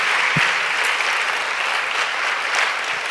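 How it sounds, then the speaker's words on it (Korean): A church congregation claps steadily in a sustained, fairly loud round of applause welcoming a missionary, with no talk over it. "박수로 한번 환영해 주시길 바랍니다"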